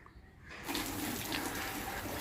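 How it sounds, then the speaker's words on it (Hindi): Water starts gushing and splashing steadily after a short quiet moment, as planted potatoes are lightly sprinkled at home, close and continuous, with no talking. "अब मैं इन पर हल्का हल्का पानी का छिड़काव कर देता हूँ"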